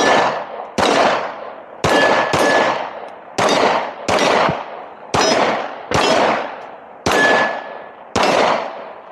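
A Tisas Double Stack 1911 pistol fires at steel targets outdoors, with about ten sharp, loud shots in a steady rhythm, each followed by a ringing decay and a metallic ping from the steel.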